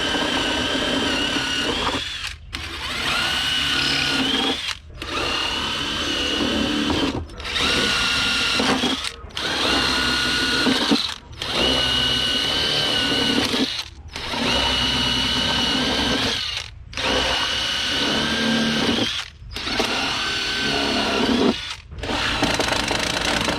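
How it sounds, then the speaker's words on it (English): An impact drill whines in loud, sustained bursts while drilling out a front bumper fastener on a 2022+ Kawasaki Ultra jet ski, about ten runs separated by brief pauses. "We're gonna drill it out using the impact, show you how quickly it goes."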